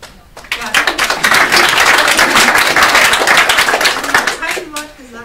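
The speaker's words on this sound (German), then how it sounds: "kein Wort gesagt, schon Applaus" Loud, dense applause from a seated audience at a Berlin humanist salon talk, swelling quickly into steady rapid clapping for several seconds and then dying away, with a voice speaking faintly at the start and end.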